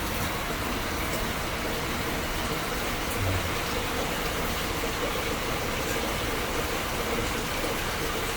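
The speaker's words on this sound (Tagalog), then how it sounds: "Tuloy-tuloy ang ulan guys," Steady, continuous rain falls hard and evenly during a typhoon near an evacuation area, an unbroken broadband hiss with no pauses and no voices.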